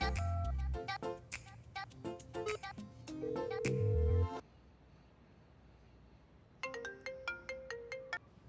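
A phone ringtone plays while a call is placed home in a Marathi comedy series. It comes after a burst of music and a short quiet gap, then repeats as a bright, evenly spaced run of chiming tones that rings out clearly on its own.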